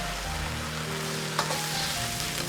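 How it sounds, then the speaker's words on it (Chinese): Braised pork with oyster sauce and seafood sauce sizzles steadily in a wok while being stir-fried, a continuous close frying hiss broken by a brief scrape of stirring, with no talk. "继续翻炒均匀，炒出酱香味"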